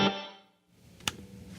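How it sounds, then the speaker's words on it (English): Electric guitar through a reverb with a short decay: a quiet strum dies away within about half a second, followed by a brief second hit with little lingering tail. "And then you've got a reverb with a really short decay."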